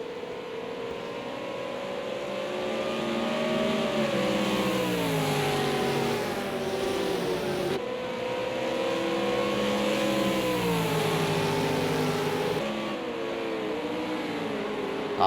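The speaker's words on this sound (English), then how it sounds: "And here comes the thunder of the V8s down through the S's." V8 race cars thunder through S-bends on a circuit, engines roaring loud and continuous with rising and falling revs as several cars pass close, a steady wall of engine noise with no talk.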